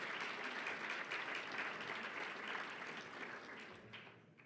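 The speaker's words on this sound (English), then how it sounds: "A round of applause, please." Audience applause for a former President of Chile at a global surgery panel event, a dense, fairly soft wash of clapping that gradually fades out over a few seconds.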